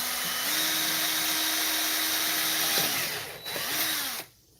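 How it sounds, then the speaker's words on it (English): A power drill drills a second hole through a plastic toy lantern, a loud close whine that holds steady, shifts pitch and winds down, then cuts off near the end. "And just for the heck of it, let's go and drill another one."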